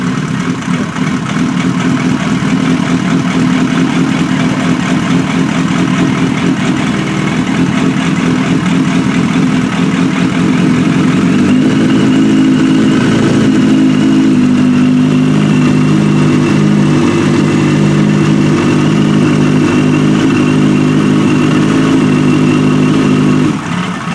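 A Suzuki Bandit 1250 motorcycle engine, run with injector cleaner in the fuel, idles loud and steady up close, its pitch shifting slightly partway through, with no talk over it.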